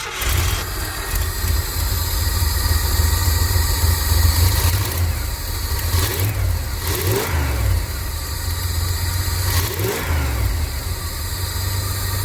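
A campervan engine fitted with electronic fuel injection and new headers revs steadily and loudly up close, its throaty rumble rising and falling through several throttle blips with no talking.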